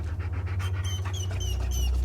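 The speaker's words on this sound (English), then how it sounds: "I found the poor pup whimpering alone in a house." An abandoned dog in the video game Hell Is Us whimpers and pants in short breathy bursts over a steady low drone, with faint high whine-like tones rising near and clear throughout.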